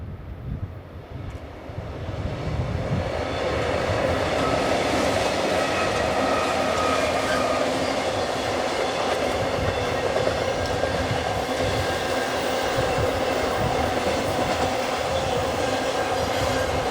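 A westbound BNSF freight train passes below the abandoned Route 66 bridge west of Crookton, Arizona. Its deep, continuous rumble and rolling wheel noise swell in the first few seconds, then hold loud and steady throughout.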